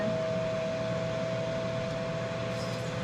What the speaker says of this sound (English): Turn on my fan.